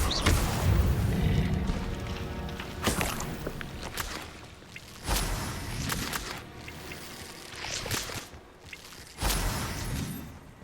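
Incendio fire spell cast repeatedly in Hogwarts Legacy, several loud whooshing bursts with sharp onsets spaced a few seconds apart, each trailing into a crackling, roaring decay.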